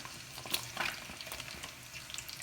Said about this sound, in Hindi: ऑयल के हमने ले लिए हैं 4 से 5 बड़े चम्मच, और अब हम इसमें डालेंगे जी प्याज